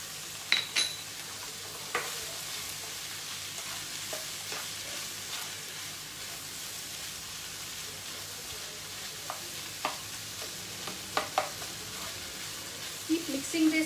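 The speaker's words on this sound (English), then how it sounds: "Keep mixing this well till you get a nice filling for your quesadillas." A spoon stirs quesadilla filling seasoned with salt, pepper and chili flakes as it fries in a pan, a soft steady sizzle broken by scattered scraping clinks against the metal, close and fairly quiet.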